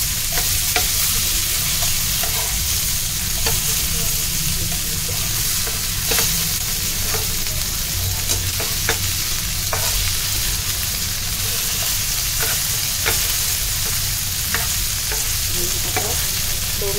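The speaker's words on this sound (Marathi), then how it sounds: "आता दुसऱ्या बाजूने पण छान क्रिस्पी होईपर्यंत फ्राय करायचे आहे" Bombay duck (bombil) fish shallow-fries on a tawa over medium-high heat, giving a steady, close sizzle with scattered crackles and pops throughout.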